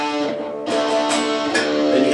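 A guitar chord from a riff rings out, struck twice in quick succession with sustained, bright overtones, played up close and alone.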